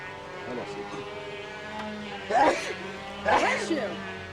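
A sneeze and a shorter second burst ring out close by in a workshop where balsa model aircraft landing gear is being handled, with a steady hum underneath and people talking around it.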